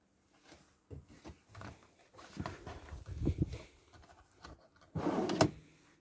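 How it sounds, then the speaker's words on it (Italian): Drawers slide open and shut in the kitchen of a Weinsberg CUV camper van built on a Ducato, giving several separate thuds and rolling clunks, some soft and one louder near the end. "cassetti comodi"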